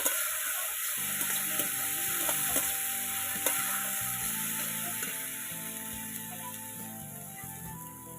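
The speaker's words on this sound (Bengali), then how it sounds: "সব মশলাগুলোকে খুব ভালোভাবে কষিয়ে নেব।" Ground spices, Kashmiri chilli powder and cumin, stir-fried in a pan for a rohu fish curry, a soft steady sizzle with rhythmic scraping and clicking from the stirring spoon, fairly quiet and close.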